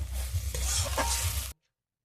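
Fried okra being stir-fried in a pan, a close sizzle with stirring scrapes for about a second and a half before cutting off abruptly into silence, no voices.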